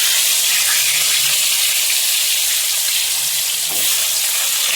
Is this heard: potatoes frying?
yes